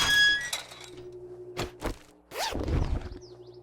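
Harvesting objects in the video game 7 Days To Die: a few sharp thunking, breaking hits spaced apart, with a crunchy clatter near the end.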